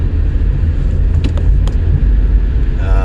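Car driving on the road heard from inside the cabin, a loud steady low engine and tire rumble with a few faint clicks and a brief tonal chime near the end, no talk.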